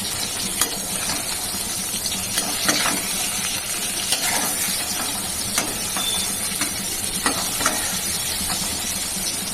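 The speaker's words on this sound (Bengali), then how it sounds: "এটা বেগুনগুলো ভেজে যেতে গেছে, এরকম করে ভাজবো।" Eggplant slices frying in a pan, a constant loud sizzle and hiss punctuated by periodic clicks and scrapes of stirring, close up without voices.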